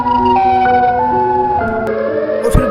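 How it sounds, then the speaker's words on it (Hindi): The wailing siren of Siren Head in an animated horror cartoon, a loud droning multi-tone siren that holds and slowly slides downward, ending with a brief thump. "सायरन की आवाज सुनकर रोन सायरन हेड की तरफ चल पड़ता है"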